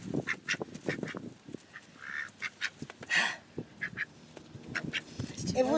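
Several ducks quack at a campground, loud nearby calls coming in bursts and repeated through the stretch, with people talking over them.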